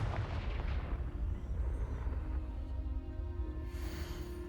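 The Confringo fire spell in the Hogwarts Legacy video game erupts as a heavy, booming blast with a deep rumbling tail that fades over a few seconds, then a brighter whoosh rises near the end.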